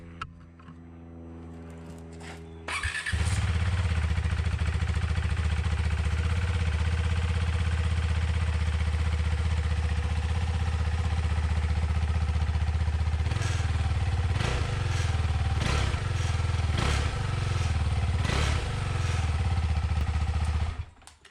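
After a brief clatter, the stock-exhaust engine of a 2020 KTM 390 Adventure motorcycle starts and idles steadily and close by, then blips through several sharp revs before cutting off.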